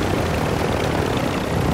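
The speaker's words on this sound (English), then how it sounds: "There's another guy in a chopper." A helicopter flies in a video game, its steady rotor and engine roar filling the whole moment loud and close, with no talk over it.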